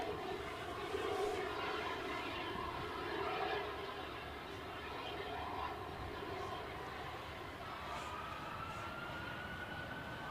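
A Rolls-Royce RB211-engined airliner takes off at Edinburgh Airport in windy weather, a steady distant engine roar that holds broad and constant throughout.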